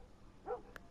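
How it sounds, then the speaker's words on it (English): A single short, faint dog bark or yip in The Last of Us video game, quick and distant against a quiet background. "A dog just got assaulted."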